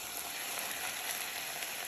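Washed rice and onions frying in a pan, a soft steady sizzle with faint crackles as they are stirred, quiet and continuous over the brief stretch.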